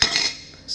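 A metal mason jar lid set rubber side down into a baking pan, giving one brief clink and a short ringing scrape, close and clear, with no one speaking.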